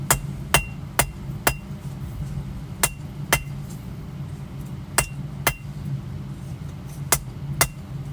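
Hammer blows ring out at an uneven pace while a chef knife is forged from a coil spring, about a dozen sharp metallic strikes over a low steady hum.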